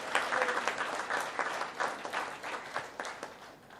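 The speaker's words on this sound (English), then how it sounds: "I would like to request you all to give a big round of applause for her contribution" An audience at a corporate innovation event breaks into sustained applause, a dense wash of clapping with slight swells, close and lively throughout.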